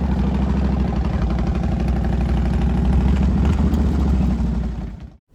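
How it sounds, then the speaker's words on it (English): A Harley-Davidson motorcycle engine rumbles steadily as a rider takes it out, a loud, close, pulsing low throb that holds for several seconds before cutting off abruptly. "Here's Frank riding my motorcycle."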